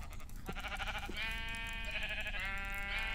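Sheep in the video game Minecraft bleat in two or three drawn-out calls close by, clear over a quiet background hiss, with no speech.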